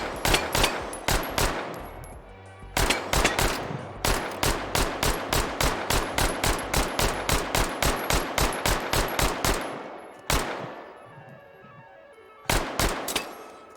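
A submachine gun in the H3VR virtual-reality shooter fires in several sustained rapid bursts of loud, sharp shots with short pauses between them and a couple of isolated single shots near the end, no voices.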